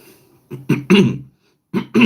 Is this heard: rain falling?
no